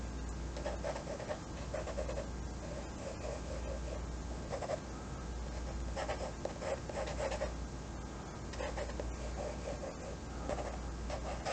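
A pencil sketches a rough self-portrait on paper, giving a steady scratchy rubbing with rhythmic strokes throughout, close and continuous with no talking.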